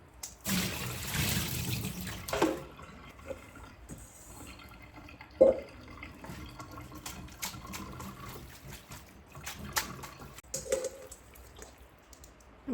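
Pork strips for chicharrones washed under a running tap, with a soft splashing trickle, scattered drips and a few light knocks nearby in a quiet kitchen, no one speaking.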